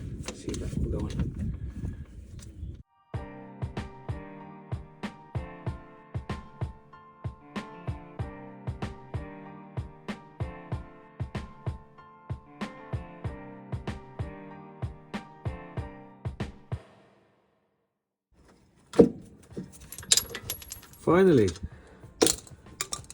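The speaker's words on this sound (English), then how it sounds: "I'm struggling to get the rotation of the ratchet with the shallow socket" Ratchet with a deep socket working on the electric water pump of a BMW N52 engine, a long run of steady clicking strokes in a rhythmic series, fairly close, with a pause and some speech around it.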